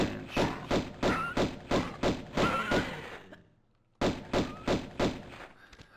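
Lara Croft fires her pistols at wolves in Tomb Raider I Remastered: a rapid string of punchy shots in an even rhythm, then a second of near silence, then another quick burst of shots.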